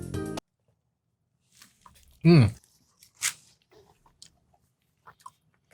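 Someone bites into a Taco Bell Burrito Supreme, giving a few faint, wet, sparse chewing clicks and squishes between short bursts of voice, with a brief vocal groan in the middle.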